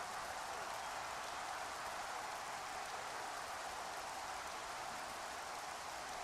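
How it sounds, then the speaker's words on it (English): Steady rain in a college football video game hisses evenly throughout, a soft constant wash of falling drops with no voices or other sounds. "Well, it is raining."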